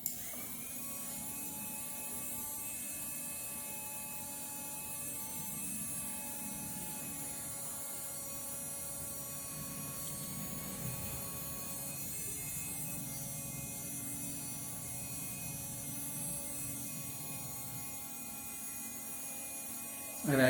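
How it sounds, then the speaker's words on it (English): Irrigation paddy pump motor running in a smart irrigation setup, a steady electric hum with a whining tonal drone held evenly throughout, close and continuous. "Now the paddy motor is also started."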